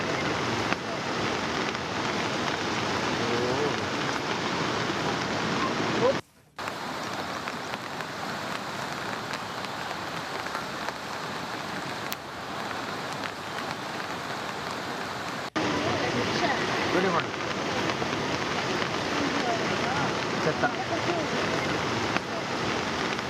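Rushing floodwater of the Bhadra River in Karnataka during heavy rain, a dense, steady broadband roar of water and downpour that stays loud almost throughout, with one brief dropout near the start.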